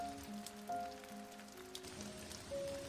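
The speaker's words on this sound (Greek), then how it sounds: "άρχισε και η βροχή να λιώνει τα μεσάνυχτα με αυτόν τον νικημένο πάντα ήχο «Σι, σι, σι»" Rain falls steadily at midnight as a soft, diffuse patter under faint sustained musical tones, quiet and even throughout.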